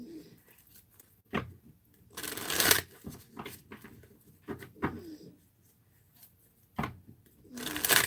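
Tarot cards being shuffled in several short bursts, crisp riffling rushes spaced across a quiet room, fairly close and moderately loud, with no talking.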